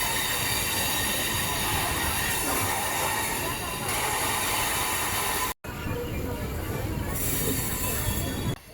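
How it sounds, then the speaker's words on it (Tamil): The 66019 Villupuram–Mayiladuthurai MEMU passenger train pulls out of Villupuram Junction, its loud continuous rumble and wheel noise heard from on board, with a brief cut partway and faint squeal higher up. "நம்ம இந்த 66019 விழுப்புரம் மயிலாடுதுறை மெமோ பார்த்தீங்கன்னா கரெக்டாக 2:35க்கு விழுப்புரத்துலேருந்து கிளம்பிடுச்சுங்க."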